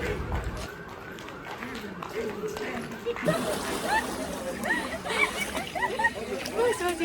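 Water splashes and churns as people bathe in the Gomti river, with dense, continuous splashing close by and voices chattering over it throughout.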